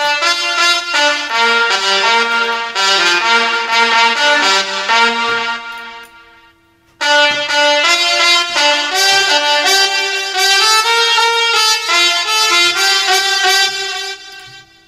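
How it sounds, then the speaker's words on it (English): A melodic electronic music track with automated reverb plays loud and sustained, its tones washing out into a fading tail around the midpoint before the phrase restarts at full level. "I have this reverb, but this one is for automation."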